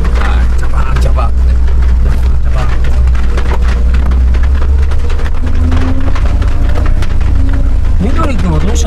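A Suzuki Jimny JB23 four-wheel-drive pushes through rain-flooded puddles, with continuous loud water splashing and sloshing over a deep engine rumble, heard from inside the cabin as people talk throughout.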